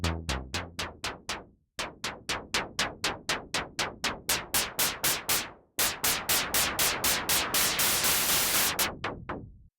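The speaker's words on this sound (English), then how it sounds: "the noise generator produces white noise" A synthesizer's noise generator feeds white noise through a filter, making a steady run of sharp, hissing plucked hits that decay quickly. The hits fall in a regular polyrhythmic pattern, and the bursts grow brighter and denser toward the end.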